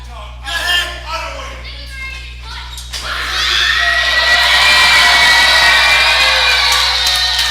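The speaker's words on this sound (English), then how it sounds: "He's created his own cheering section in an opposite corner." Wrestling fans at a live match roar and cheer together, a few scattered shouts at first swelling into a loud, sustained crowd roar that holds steady to the end.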